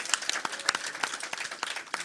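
Brief, sparse applause from a small audience at a UFO and extraterrestrials panel discussion, a scattering of separate claps in an indoor room with no one talking.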